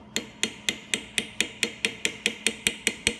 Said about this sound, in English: now we're going to hammer that in.